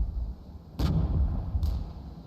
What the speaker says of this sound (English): move these tanks over here into this tree line and pelt these IFVs from a distance